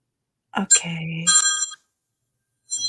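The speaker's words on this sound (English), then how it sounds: "That reminds me of Larry's phone" Telephone ringtone sounding loudly in a courtroom setting, a short burst of bright electronic tones followed by a pause and the start of another ring.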